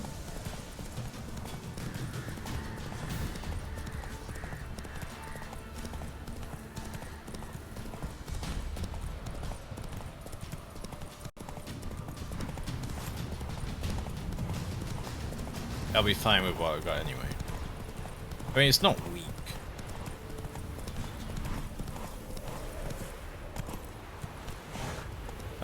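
Horse hooves galloping in The Witcher 3: Wild Hunt, Blood and Wine, a steady clip-clop rhythm running under game music and someone talking over it.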